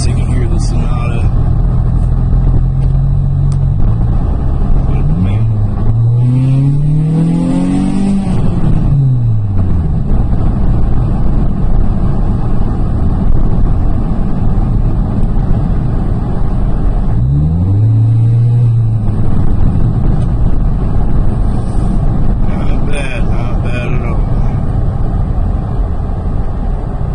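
A 2012 Hyundai Sonata GLS with the 2.4-liter engine runs steadily through an open window, its drone rising and falling with two swells of revving amid wind rush, with talk over it.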